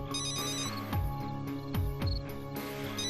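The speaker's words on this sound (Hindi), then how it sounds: "काफी देर से ये फोन बज रहा है" A telephone rings insistently with bright, repeating electronic tones, several short bursts in a row, with a few dull knocks underneath.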